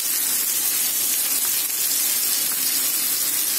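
Turmeric powder hitting hot oil in a pan while cooking Bengali musur dal, giving a steady, close sizzle and hiss that holds evenly throughout with no pauses.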